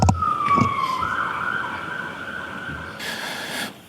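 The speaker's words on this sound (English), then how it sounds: "Hold on, wait for the ambulance, and then speak up." An ambulance siren wails steadily outside a courtroom, its tone sliding and then holding as the vehicle passes, with a burst of traffic noise near the end.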